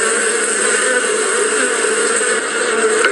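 Honey bees swarm around a beehive on a New York rooftop, giving a dense, steady buzzing drone that stays loud and unbroken throughout.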